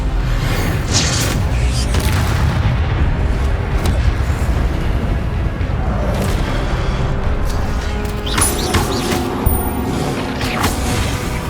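Incendio fire spell cast in the Hogwarts Legacy video game, a loud sustained roaring whoosh of flame and rumbling booms filling the scene, dense and continuous with sharp crackling bursts near the end.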